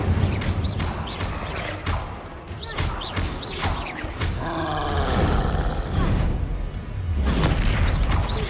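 Fiery spell bursts and roaring, crackling flames from the Incendio spell in Hogwarts Legacy, with repeated booming impacts and a sustained whooshing roar over game background sound.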